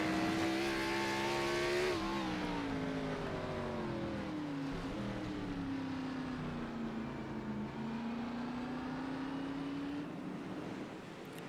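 Race car engines in the iRacing game at Sonoma Raceway, a steady droning whine that dips briefly as a car lifts, then holds a sustained tone while cars head toward the hairpin, close and continuous.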